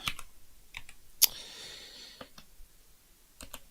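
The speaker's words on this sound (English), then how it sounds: "Let's use the other keyboard." Scattered keystrokes tap on a computer keyboard, a few sparse clicks with one sharper louder strike early on, close and alone in a quiet room.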